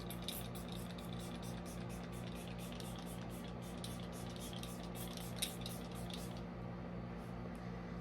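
A steady hiss of Milk Hydro Grip Set and Refresh Spray misted onto a face runs for several seconds, close and soft, then cuts off abruptly, leaving faint background.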